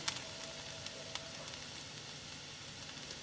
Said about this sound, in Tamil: இது ரெண்டையும் சேர்த்து நல்லா ஃப்ரை பண்ணிக்கிறேன்.